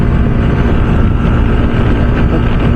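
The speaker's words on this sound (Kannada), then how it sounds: "ಫುಲ್ ಮಣ್ಣು ಹೊಡಿತಿದೆ ಕಾಲಿಗೆ, ಅಷ್ಟೊಂದು ಗಾಳಿ ಜೋರ ಹೋಗ್ತಿದೆ." Strong wind gusts blow sand across an open road on the way to Mysore, a loud continuous roar of wind buffeting the microphone with low rumbling, no voices heard.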